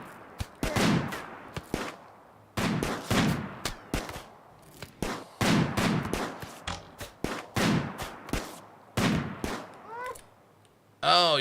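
Video game gunfire in short bursts of rapid shots, loud and close, spaced across the stretch with brief pauses between volleys.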